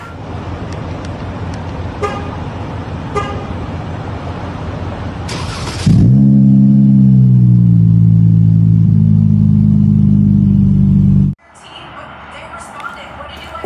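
Chrysler 300 with BigBoz mufflers replacing the stock suitcase mufflers, starting with a sharp crack into a loud, deep, steady exhaust drone at idle for several seconds, then cutting off abruptly; speech and light background noise surround it.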